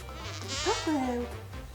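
A flying insect buzzes close by in a quiet room, its whine rising and falling in pitch as it circles near and away for a couple of seconds.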